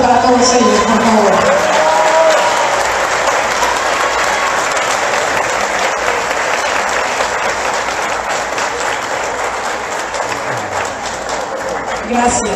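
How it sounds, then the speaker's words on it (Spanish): Sustained applause from a university graduation ceremony audience in a large hall, dense and loud throughout, with cheering and voices mixed in near the start and end. "Un merecido aplauso para todos ellos, por favor."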